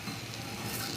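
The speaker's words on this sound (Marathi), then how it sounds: "आता पराठा टाकते" An aloo paratha sizzles on a hot, oiled tawa, a steady dense crackling hiss that fills the whole moment, close and fairly loud with no voices.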